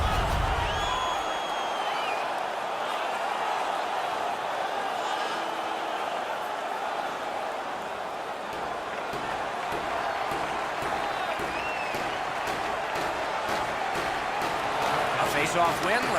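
Home crowd roaring in an NHL 19 hockey game arena, a broad sustained wash of cheering and noise that swells slightly near the end, with a commentator talking over it.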